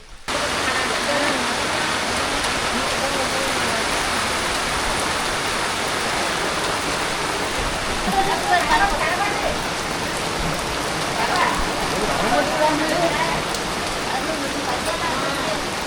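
Heavy rain falls in a steady, dense hiss on surrounding surfaces, constant and fairly loud for the whole stretch, with faint background voices now and then.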